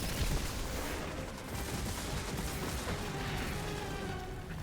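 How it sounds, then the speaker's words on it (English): Enemy gunfire in the sci-fi shooter Destiny 2, a dense burst of loud booming shots and blasts filling the clip over continuous rumbling game noise, with no talk. "he just fired a shot"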